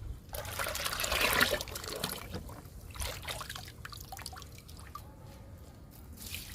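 Homemade liquid fertilizer made from fruit peels poured onto fruit plants, a trickling, dripping pour that swells loudest early and then thins into scattered splashes and dribbles, close by with no talking.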